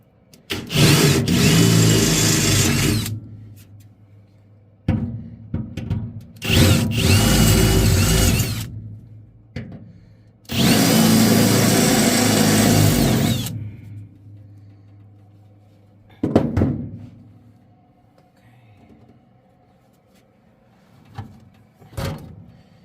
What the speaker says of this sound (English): 1/4" drill bit.